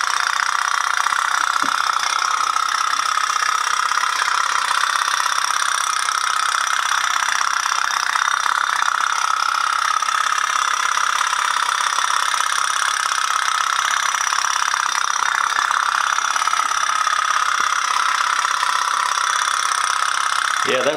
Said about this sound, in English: this is the very rare putt-putt boat, and I'm gonna show you how it works. It's driven by heat and steaming water.